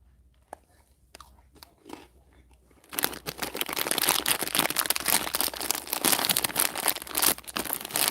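Sweet tea crackers are crunched and chewed up close: a few sparse clicks at first, then a dense, continuous run of crisp crunching and crinkling.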